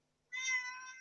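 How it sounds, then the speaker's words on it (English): A house cat gives a single drawn-out meow, close and clear, starting abruptly after a moment of near silence. "my cat's ruining my chat."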